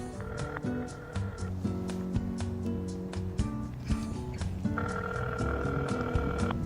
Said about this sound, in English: I'm gonna do a test call here, calling customer service and activating the speakerphone so you guys can hear the quality